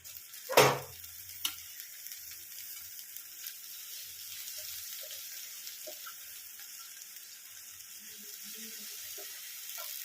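Soaked and drained Gobindobhog rice fries in a pan, giving a soft, steady high sizzle after one sharp clatter near the start, with no talking.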